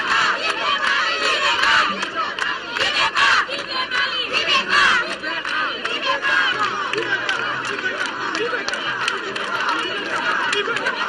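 A large outdoor crowd in Bandiagara, Mali, roars and shouts continuously as the president greets them during a walkabout, a dense, loud wall of voices without pause.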